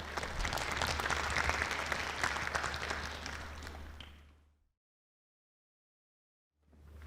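Audience at a business briefing session clapping in a dense, steady round of applause that fades out after about four seconds, followed by silence and then a brief return of sound.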